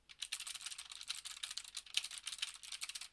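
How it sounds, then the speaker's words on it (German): Rapid, crisp clicks of a clicky mechanical keyboard being typed on steadily, close and bright, heard through a Sennheiser GSP 600 headset microphone, with no voices. "Jetzt mal das Verhalten bei einer Clicky-Tastatur."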